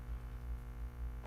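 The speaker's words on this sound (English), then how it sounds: "What's that buzzing sound?" A quiet, steady low buzzing hum, faint and continuous with a slight throbbing pulse, heard alone with no voices.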